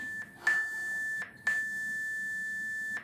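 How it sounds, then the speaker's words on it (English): A workout timer sounds three long, clear electronic beeps, each a steady pure tone separated by short gaps, alone in a quiet room. "What a beautiful sound on my channel when we hear those 3 beeps"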